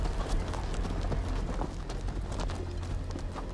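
Horses in a Game of Thrones video game, a dense run of hooves beating in fast uneven rhythm over a low rumbling bed, steady and fairly loud with no talk.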